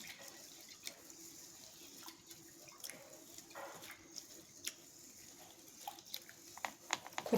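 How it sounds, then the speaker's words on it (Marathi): Lentils (dal) being rinsed in two or three changes of water: faint, sporadic splashes and drips of water swished in a bowl, quiet and close, with no talking. "हे 2-3 पाण्याने हे डाळ धुवून घ्यायची आणि नंतर मग याच्यात टाकायची. ते पहा, मी धुवून घेत आहे."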